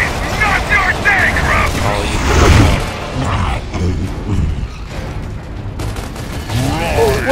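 Gunfire in Gears of War: RAAM's Shadow, a burst of shots and heavy impacts within a dense, loud battle soundscape, with crashes and mechanical clatter running throughout.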